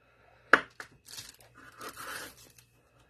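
A knife slicing through Pillsbury crescent roll dough: a sharp crisp snap followed by soft tearing and scraping strokes in short uneven bursts, close and moderately quiet, with no speech over it.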